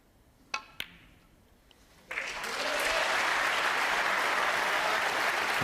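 Snooker crowd at the UK Championship bursting into sustained applause after a couple of sharp cue-ball clicks, the clapping steady and full while a commentator's voice sits faintly underneath.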